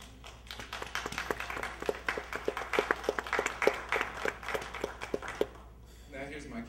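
Sparse, scattered clapping from a small audience, uneven individual claps over a low background hum, stopping before a voice resumes talking.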